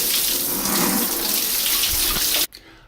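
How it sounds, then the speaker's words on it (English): A shower runs in a loud, close, steady hiss of spraying water for about two and a half seconds, then cuts off abruptly and leaves only faint drips. "I'm going to have a shower."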